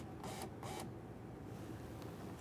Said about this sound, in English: we'll power the window down so we can gain access to our two mounting bolts